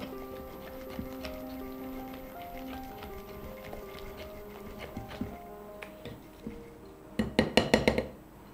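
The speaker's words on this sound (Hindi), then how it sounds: "आइए अब हम इसमें थोड़ा धनिया भी डाल लेते हैं और इसे अच्छे से मिक्स कर लेते हैं।" Mysore bonda batter mixed with added coriander in a bowl, quiet stirring under soft background music, ending in a quick run of sharp utensil clinks against the bowl.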